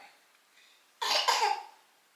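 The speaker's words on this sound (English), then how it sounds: "You saying goodbye with your coughs?" A couple of short, harsh coughs in quick succession, close and fairly loud, after a moment of near silence.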